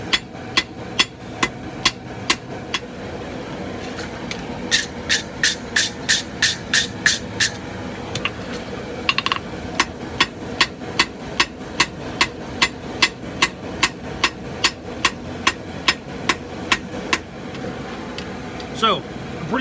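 A hammer forges a bevel on a draw knife made from an old file, striking in a steady, loud rhythm of sharp metallic blows, with a few quicker bursts of ringing taps partway through.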